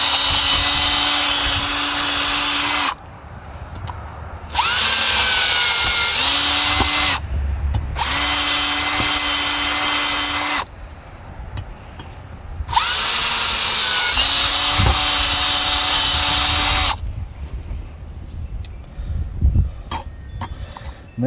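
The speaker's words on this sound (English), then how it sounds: "Now when I'm drilling this, I am trying to bring some of the material out" A power drill bores holes through a new rubber plow edge for a John Deere 430 garden tractor, loud close whining bursts of several seconds each, separated by short quieter gaps with faint clinks and handling noise.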